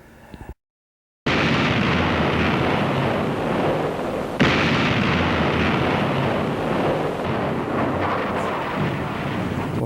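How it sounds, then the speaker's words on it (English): Thunderous blasts from the 16-inch/50 battleship guns of USS Iowa: one massive boom followed by a long rolling roar, then a second blast mid-way, loud and sustained, with no voices. "fire the big guns, the 16-inch 50 guns on the battleship is something special"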